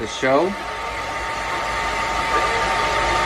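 An iTeracare device blows out a steady, even whoosh of air like a hair dryer, holding constant throughout. A brief voice sounds at the very start.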